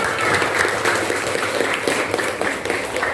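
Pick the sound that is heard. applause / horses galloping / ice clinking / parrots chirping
applause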